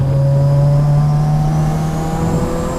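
Turbocharged Scion FR-S engine pulling hard under boost, a loud steady drone of rising engine pitch with a faint whistle above it, continuous and close throughout.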